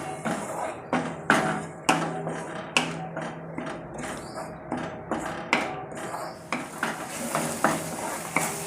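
Masala spices frying in oil in a pan for a rustic drumstick curry, stirred constantly with a spoon: steady sizzle under repeated scraping and clinking strokes of metal on the pan, close and fairly loud, with no talk.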